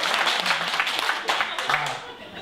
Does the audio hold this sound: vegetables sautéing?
no